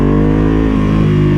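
Ducati Panigale V2 motorcycle engine revs steadily through its exhaust, a loud, close, continuous rumble with slight wavering; distinct pops are not clearly evident.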